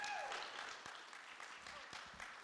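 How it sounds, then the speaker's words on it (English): Audience applause at a San Diego seafood-sector annual community gathering: a steady, dense wash of clapping from a room full of people that carries evenly through the whole stretch, with some voices mixed in. "can we give them another round of applause for the effort?"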